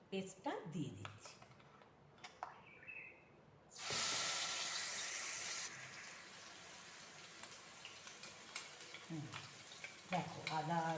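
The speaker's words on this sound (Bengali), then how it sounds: "ওই তেলেই আমি তোমার এই যে পেস্ট করে রেখেছি আদা রসুন পেঁয়াজ, এই পেস্টটা দিয়ে দিচ্ছি" Ginger, garlic and onion paste dropped into hot oil sizzles in a loud burst of frying that settles to a steady hiss, with occasional stirring clinks and scrapes and a voice speaking around it.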